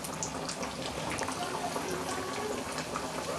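Potato cutlets made from rice flour frying in hot oil, a steady dense sizzle with crackling bubbles running continuously at close range, no voices over it.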